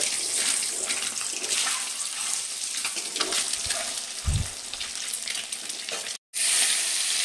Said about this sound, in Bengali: এবার আমি তেলের মধ্যে আগে থেকে যে ডিমগুলো সেদ্ধ করে রেখেছিলাম সেইগুলোকে ভেজে নেব।